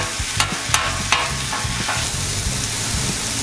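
Chorizo sizzles loudly and steadily in a frying pan, a close, dense hiss broken by a few soft taps and stirring scrapes in the first two seconds.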